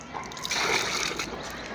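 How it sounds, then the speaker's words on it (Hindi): Water from a rooftop tank pours into a bucket during roof repair work, a steady close splashing and sloshing rush with no pauses. "टैंकी में से पानी डाल रहा हूँ सारा"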